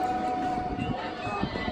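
An Anantapur–KSR Bengaluru MEMU train rolls into Someshwara station, a steady rumbling rail noise with a faint tonal hum, moderately quiet and continuous.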